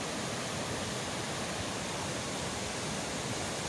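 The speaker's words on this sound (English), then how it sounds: "As you can see, there's a waterfall right there, and its source is Molo River." A waterfall fed by the Molo River in Mogotio, Baringo County, gives a steady, unbroken rushing roar close by. It holds constant from start to end, with no voices.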